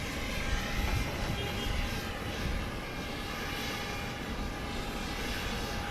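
A Boeing 737-700 taking off at night at Dallas Love Field, a broad steady jet roar with a high whine, heard from a distance and holding constant throughout.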